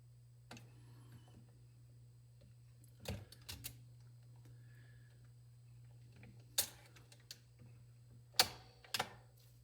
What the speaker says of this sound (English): the tone arm will move over to its position and it will turn the turntable off